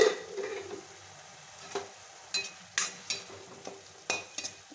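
Bottle gourd is stirred in a cooking pot, a utensil scraping in several short, separate strokes over a faint low simmer.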